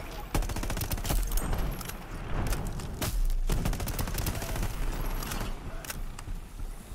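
Gunfire in the video game Shatterline rattles in rapid bursts of sharp shots, loud and close, repeating across the whole stretch with brief pauses between volleys.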